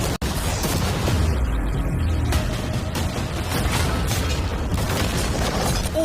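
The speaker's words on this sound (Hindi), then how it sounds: "अब हम तुम्हारी नई यॉट पर कैनन्स को शूट करने वाले हैं" Cannons fire at a new yacht, their blasts merged into a continuous loud, dense barrage of booms and crashing impacts with debris tearing through storage containers, one sharp crack near the start.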